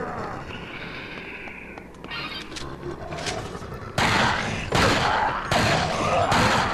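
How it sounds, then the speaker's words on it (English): Magnum revolver fired in the Dead Rising video game: three loud, sharp blasts land in quick succession during the second half, following a stretch of busy game ambience with no talk. "I think I shot one thing with the Magnum. So let's have some fun."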